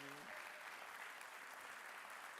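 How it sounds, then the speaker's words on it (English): Steady, even applause from an audience welcomes the judges at a startup accelerator showcase, with a brief voice at the very start before the clapping goes on alone. "Give them a round of applause."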